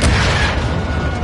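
An RPG explodes close by in a video game, one dense, loud roaring blast that fills the whole moment and slowly fades.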